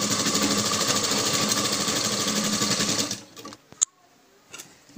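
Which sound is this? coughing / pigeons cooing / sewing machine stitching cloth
sewing machine stitching cloth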